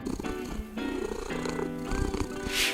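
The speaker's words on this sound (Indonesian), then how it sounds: "Kamu pikir kucing mendengkur itu selalu berarti bahagia?" A cat purrs continuously and close by for a few seconds, with a steady tonal layer underneath.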